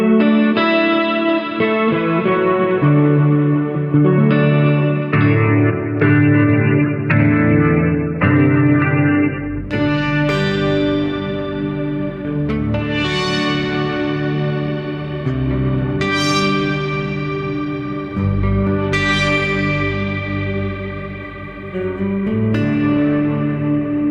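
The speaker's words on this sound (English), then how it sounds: "So these are three excellent options to get your synth sounds on your Quad Cortex." Synth-like sounds from a Quad Cortex guitar processor, polyphonic sustained tones with distortion, chorus and echo, changing chords in a steady, loud stream with no talking.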